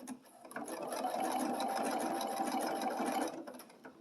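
A sewing machine runs steadily for about three seconds, stitching a quilted Halloween table runner, a close mechanical whirr with rapid needle chatter that starts and stops cleanly.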